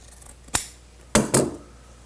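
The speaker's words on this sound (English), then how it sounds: "Turn these corners back and trim away some of this excess." Scissors snipping excess upholstery fabric on an Eastlake chair: three crisp, close cuts, one alone and then a quick pair, in a quiet room.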